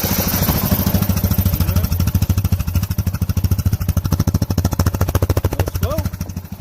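The engine of a 2004 Arctic Cat 500 4x4 ATV with a dirty carburetor fouled by old gas runs close by with a loud, uneven putter. The pulses grow rougher and more ragged as it struggles near stalling.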